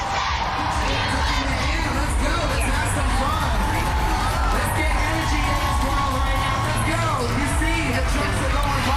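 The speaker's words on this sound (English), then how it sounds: "We can hear the roar of the crowd, Ryan." A large crowd roars and cheers continuously at a parade for the World Cup champion U.S. women's soccer team, with shouts and whistles rising out of a dense, loud wall of voices.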